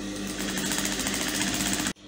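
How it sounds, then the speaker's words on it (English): A sewing machine stitches along an Ankara fabric bias strip, a fast, steady mechanical chatter that runs for about two seconds and then stops abruptly. "I'm going to start stitching"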